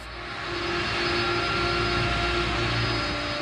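An airplane passes overhead as a steady, loud engine roar that swells over the first half-second and then holds as a broad, even rumble with a faint whine, with no voices.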